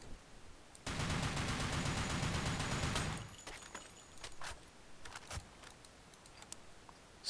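NX rifle in the Blackshot shooter: a dense stretch of rapid automatic fire lasting a couple of seconds, then a series of sparse, crisp single taps at uneven intervals.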